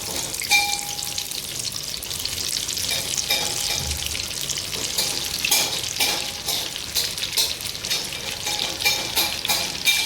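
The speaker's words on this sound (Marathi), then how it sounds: "तेल आला आहे टाकूया एक एक कोथिंबीरची वडी" Kothimbir vadi, coriander fritters, frying in hot oil on a high flame give a loud, dense, continuous sizzle with crisp bubbling crackles throughout. No one speaks.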